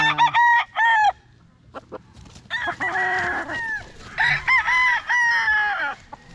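Young gamecock stag crowing in several close, loud bursts, interspersed with clucking and other fowl calls in a farmyard setting.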